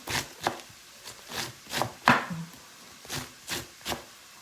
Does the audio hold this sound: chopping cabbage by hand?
yes